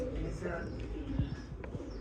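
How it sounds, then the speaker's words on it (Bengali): Giribaz pigeons coo low and soft inside a crowded loft, their murmuring mixed with steady background noise and a person talking nearby. "এইখানে মনে হয় ডিমে আছে কবুতরগুলো"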